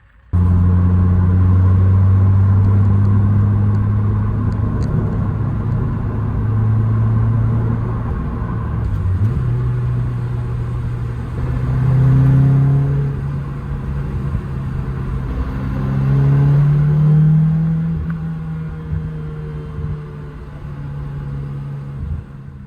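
Lotus Exige sports car driving toward Glencoe, its engine a steady loud low rumble from inside the cabin, swelling and easing several times with changes in speed, no talking.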